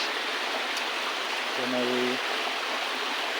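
A waterfall pours down with a steady, dense, close-up rush that stays even throughout, and a brief voice sounds over it.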